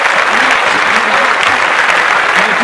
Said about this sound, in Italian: facciamo un applauso alla signora